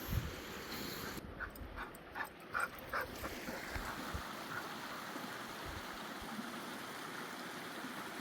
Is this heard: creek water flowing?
yes